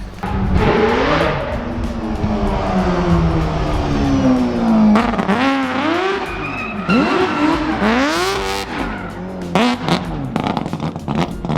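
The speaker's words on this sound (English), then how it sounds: "having Adam drift his 4-rotor in the compound is pretty distracting" A four-rotor Mazda RX-7 barn-find car drifts in a compound, its engine revving up and down in repeated surges while tires squeal and skid, loud and close with no talking.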